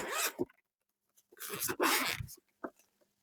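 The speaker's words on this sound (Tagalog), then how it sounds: "Zipper." A few short rasping zips in quick bursts, close by, with quiet gaps between and a small tug at the end, as a zipper on an Insta360 X5 camera case is opened.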